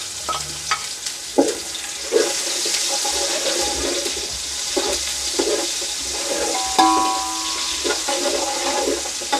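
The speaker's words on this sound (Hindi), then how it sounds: "ऑयल गरम हो गया है। ये पत्तों वाली प्याज, गरम मसाला और ज़ीरा" Spring onions with garam masala and cumin seeds frying in hot oil for a chicken and vegetable rice dish, giving a steady close sizzle with occasional stirring scrapes and clinks.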